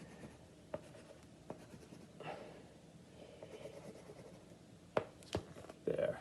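Crayon scratches and dabs on paper in short strokes while drawing green spots for a French Impressionism-style art lesson, quiet and close with a few sharper taps near the end.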